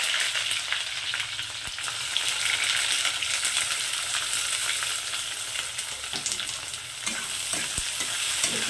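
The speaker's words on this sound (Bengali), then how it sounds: "পেঁয়াজটাকে আমি এখন একটু লাল লাল করে ভেজে নেবো, খুব বেশি লাল করবো না" Sliced onions sizzle steadily in hot oil with curry leaves in a pan for a South Indian-style chicken dish, a continuous close frying hiss with occasional stirring scrapes and no talking.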